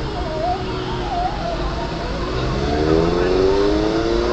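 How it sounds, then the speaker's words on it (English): Slow traffic crawls along the Las Vegas Strip with a steady wash of engine and road noise. A higher whine rises and falls over it, and the sound stays close and constant throughout. "Slow jam, traffic jam"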